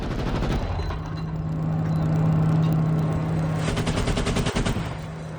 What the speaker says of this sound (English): artillery fire was one after another